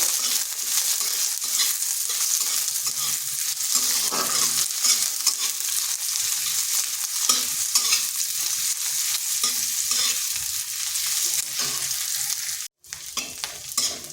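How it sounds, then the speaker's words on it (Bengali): A small onion fries in a pan with lightly browned chopped garlic, giving a steady, close sizzle with stirring scrapes throughout and a brief break near the end; no one speaks. "পেঁয়াজটাকে একটু ভাজা ভাজা করে নেবো"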